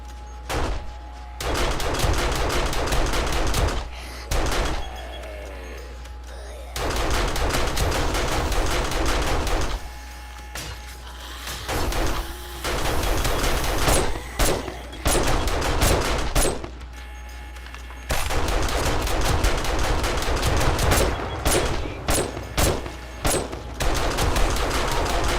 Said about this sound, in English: Absolutely annihilated by the SMG turret.